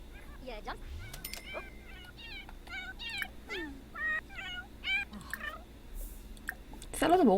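A cat in The Sims 4 video game meows repeatedly in short, bright, up-and-down calls, close and fairly clear over a low background hum.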